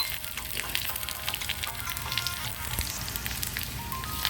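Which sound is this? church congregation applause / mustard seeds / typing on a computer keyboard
mustard seeds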